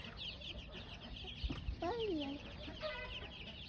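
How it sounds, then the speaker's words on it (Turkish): Month-old chicks cluck and chirp close by while drinking water, with one clear rising-falling call over soft background noise. "Civcivlere su verdi. Su içiyorlar."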